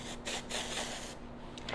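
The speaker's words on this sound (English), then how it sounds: "how to use Washable spray hair dye" Washable spray hair dye hisses from a can onto hair in short bursts. Close up, there are several quick sprays separated by brief pauses.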